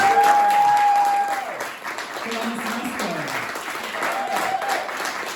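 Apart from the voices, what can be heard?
applause for the performers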